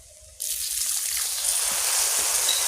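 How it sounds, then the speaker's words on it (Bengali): Water trickles steadily into a pan of sautéed spice masala for egg curry, a close, continuous pouring sound that starts abruptly and runs to the end. "সামান্য একটু জল দিয়ে দেবো"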